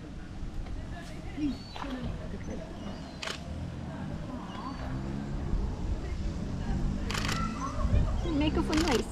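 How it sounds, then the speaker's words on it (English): Camera shutter on a single-lens reflex camera firing at Natureland Seal Sanctuary in Skegness, a few sharp clicks standing out over busy crowd chatter and ambient noise. "Everyone says to me that the shutter's too loud on this"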